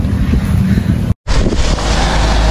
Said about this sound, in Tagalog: Lakas ng hangin o.